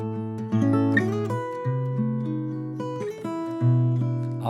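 Fingerstyle acoustic guitar plays a short passage, plucked notes and chords ringing clearly in a quiet room, no talking.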